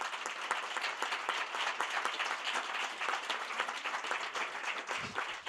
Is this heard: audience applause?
yes